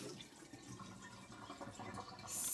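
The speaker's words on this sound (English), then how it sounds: "So I'm going to drain this real quick." Hot water drains from a container of eggs at home while making mayonnaise, a steady watery trickle and splash that swells louder toward the end.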